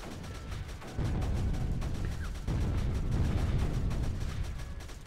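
Guns blast in heavy volleys in the strategy game Creeper World 3: a dense, continuous barrage of booming shots and rumbling impacts that surges louder after the first second and keeps pounding without letup.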